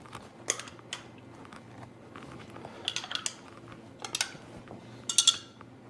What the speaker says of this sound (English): we'll kind of stir these up real quick so you can get a better look